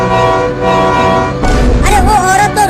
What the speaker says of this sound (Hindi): जल्दी टेम्पो का हॉर्न बजाओ।